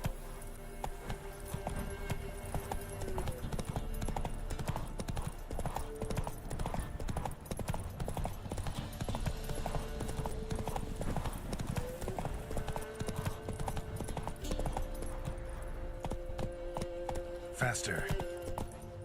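Roach, Geralt's horse in The Witcher 3 on Death March, gallops in a steady, loud run of hoofbeats with game music beneath and a brief whinny near the end.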